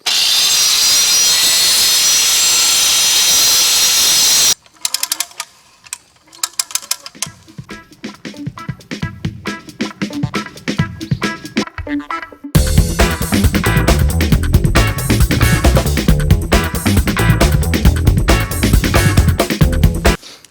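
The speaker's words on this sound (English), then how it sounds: "So I'm going to take the cutoff wheel, chop all this off here." A cutoff wheel slices wire off old chicken coop poles with loud grinding, rasping noise and clattering mechanical chatter. A steady high whine opens, then intermittent ratcheting cuts follow, and a heavy continuous grind closes it.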